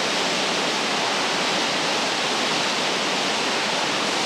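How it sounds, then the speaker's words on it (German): Lumangwe Falls on the Kalungwishi River drops 30 metres over a rock face, making a loud, steady, broadband roar of falling water that fills the whole stretch with no pauses or voices. "Der Kalungwishi-Fluss stürzt 30 Meter tief über eine Felswand."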